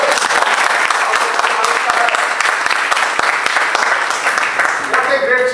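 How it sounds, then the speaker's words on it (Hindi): Steady applause from the audience at a guest lecture, loud and unbroken clapping that fills the hall for several seconds before fading near the end as a voice begins. "अरे ताली तो बजाओ इसके लिए"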